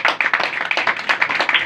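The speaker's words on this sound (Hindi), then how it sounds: "दोनों बहनों के लिए एक बार जोरदार ताली" An audience applauds two sisters at a church gathering with brisk, dense clapping that runs continuously and fairly loud for a moment.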